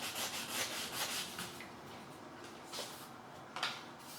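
Sandpaper rubbed back and forth over the bare wood of a budget guitar neck, a steady scratchy rasp with a few stronger strokes, close and fairly quiet with no talking.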